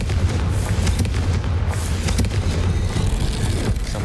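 The Confringo fire spell in the game Hogwarts Legacy detonates in a dense burst of booming explosions and rumbling blasts, loud and continuous for several seconds, with no talk.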